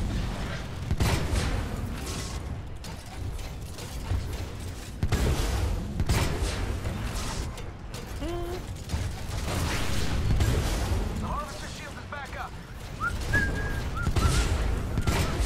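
Titan weapon fire in Titanfall 2 Frontier Defense: heavy, sustained mechanical blasts and crackling bursts repeat loudly, broken by short pauses, within a dense mix of creaks, whistles and other game effects.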